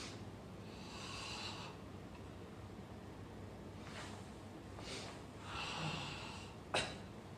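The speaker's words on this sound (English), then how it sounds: "breathe in, out, in, out, in, out, in, out, in, out" Heavy rhythmic breathing during a karate kata, several forceful breaths in and out with hissing bursts spaced a second or two apart, over a steady low background hum, no talk.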